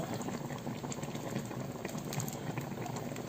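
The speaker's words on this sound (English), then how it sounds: "So our soup is almost ready. So we'll just simmer for" A pot of thick periwinkle soup simmers steadily, with a continuous low bubbling and gentle liquid churning, close and fairly quiet with no voices.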